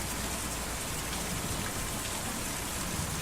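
Heavy rainstorm in Kentucky Route Zero, a dense, even hiss of pouring rain filling the whole clip at steady loudness with no voices over it.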